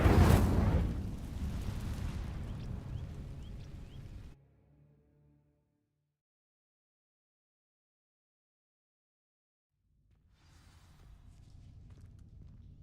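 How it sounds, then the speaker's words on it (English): An Incendio fire spell ignites dry vines in Hogwarts Legacy, a loud whooshing burst at the start that roars and crackles for a few seconds, then cuts to silence before a low rumble returns. "These dry vines are one spark away from becoming kindling. Incendio."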